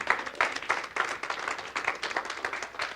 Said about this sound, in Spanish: Es ofrenda de palmas al Señor